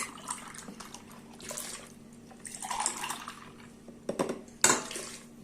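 Milk poured into a pot for a profiterole chocolate sauce, a soft liquid gurgle with a few brief splashes and clinks near the end, close and fairly quiet.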